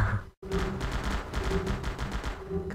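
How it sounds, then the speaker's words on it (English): Rapid video game gunfire crackles in a dense, continuous burst after a brief silent gap, with no voices. "I love shooting that guy out there."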